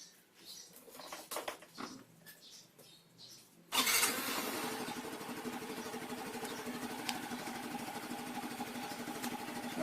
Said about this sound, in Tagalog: Papatakbuhin ko ngayong makina para mag-circulate yung gear oil at saka yung engine oil niya.